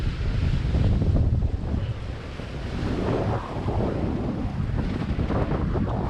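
Steady wind buffeting the microphone over rushing waves and surf aboard a sailboat on the Pacific in 13 knots of wind, a loud continuous roar with no talk.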